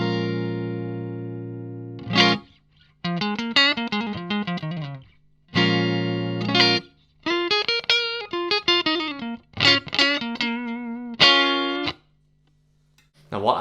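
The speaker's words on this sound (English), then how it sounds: "these are the settings that I would typically use for that really clean, pristine amp sound" Clean electric guitar runs through a Kingsley Maiden D valve preamp pedal with no reverb, playing bright single notes and chords in separate phrases. The notes ring and decay, with short silences between the phrases.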